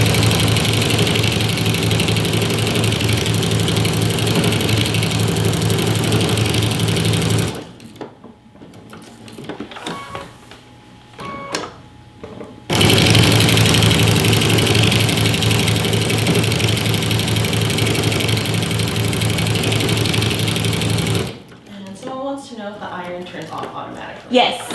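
Sewing machine running steadily around a pillow with a lock stitch, a loud continuous motor whir that stops and restarts, with a person talking during the pause and toward the end.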